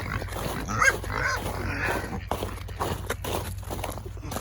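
Pigs grunt and snuffle nearby amid shuffling hooves and general farmyard clatter, a busy continuous jumble without clear talk.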